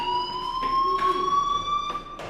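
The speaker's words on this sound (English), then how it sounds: "Hey, do you hear that fire alarm?" A fire alarm sounds in the video game Life Is Strange, a steady, loud electronic tone that rings continuously and alone, with a few brief bursts of broader noise over it.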